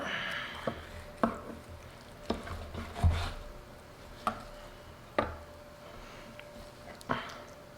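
Knife slicing through smoked beef ribs cooked hot and fast on an offset smoker, giving about eight sharp, close knocks of the blade hitting the cutting board at uneven intervals, with one heavier thud midway.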